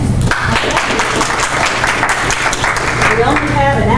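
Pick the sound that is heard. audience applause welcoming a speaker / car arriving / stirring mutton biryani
audience applause welcoming a speaker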